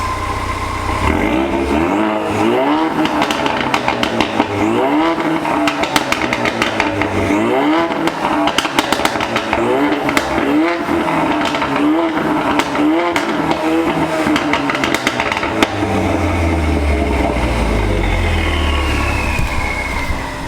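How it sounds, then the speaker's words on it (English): A 400whp Ford Mustang EcoBoost is revved in a garage, its exhaust blaring loudly in repeated rising-and-falling pulls over a steady rumbling idle, then dropping into a deeper lower rumble near the end. "A little bit of car exhaust content for you."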